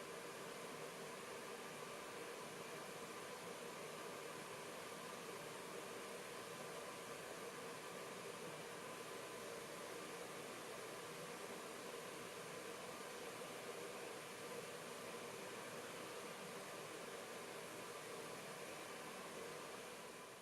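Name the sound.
fan and heater of a continuous drying system running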